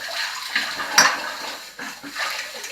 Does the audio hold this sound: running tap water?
yes